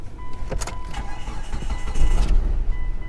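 A car with a suspected bad fuel supply and a weak battery cranks while trying to start, giving a short burst of rough mechanical turning with a brief surge midway.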